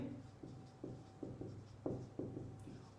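Pen or chalk writing during a chemistry lesson on acids, bases and salts, several short scratchy strokes and taps at irregular intervals, close and soft.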